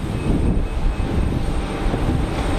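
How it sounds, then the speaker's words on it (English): Transavia Boeing 737 airliner at Geneva Airport, a steady loud broadband engine roar that holds constant throughout, with no voices over it. "Transavia 737 of some description."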